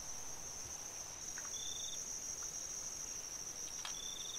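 Crickets chirp as a continuous high, steady trill with a few fainter extra chirps, set against quiet background hiss with no talking.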